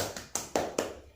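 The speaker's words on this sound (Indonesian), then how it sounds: "beri tepuk tangan dulu untuk Nak Siti Soleha" A few separate, sharp hand claps sound close by in a quiet classroom, about five distinct slaps spaced unevenly over a second, without a full round of applause.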